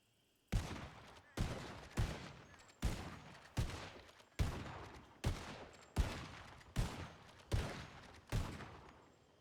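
Eleven evenly spaced gunshots fired by one shooter in a roleplay game, each a sharp loud crack with a short decaying tail, about one per 0.7 seconds, with no talk over them.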